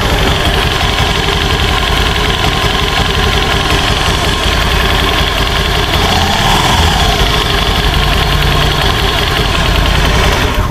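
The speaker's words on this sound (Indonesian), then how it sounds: "itulah suara slide piece yang tadi gue bilang, yang hitam 3 biji kecil, karena itunya udah longgar" Steady mechanical engine drone of an automatic scooter with a faint irregular rattle and light clicking from loose CVT slide pieces running through it, continuous and fairly loud, no voices.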